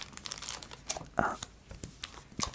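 A Pokemon card booster pack wrapper is torn open with close, crinkly foil crackles and a sharp tearing burst in the middle, under soft talk.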